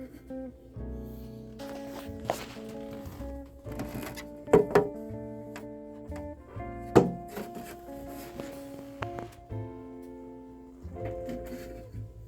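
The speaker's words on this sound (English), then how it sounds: "I'm going to remove these covers and try the new Decsaver covers." Plastic dust covers lifted off a Technics SL1210MK5 turntable, giving a few close clunks and knocks among lighter plastic rattles and scrapes, scattered irregularly and moderately quiet.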